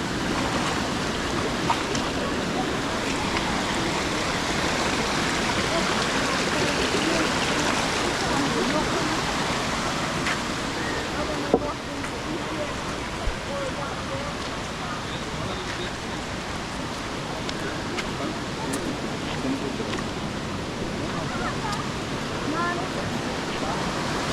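Steady rushing and splashing of shallow cold water in a stream, a broadband wash that runs continuously throughout, with occasional louder sloshes from feet moving through it.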